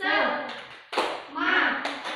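Children in a classroom clap together in short bursts during a "tepuk semangat" clap chant, sharp group claps mixed with voices chanting along.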